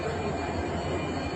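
A large train stands at platform 6 of a railway station, its steady low rumble and hiss filling the space with constant broadband noise and no clear pauses.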